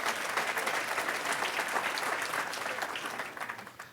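An audience applauds at a public civic gathering in Grenoble, a steady dense wash of many hands clapping that fades toward the end.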